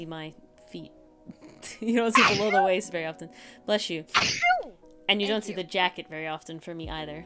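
A person sneezes once, loud and close, in the middle of a casual indoor conversation, with several voices talking before and after it.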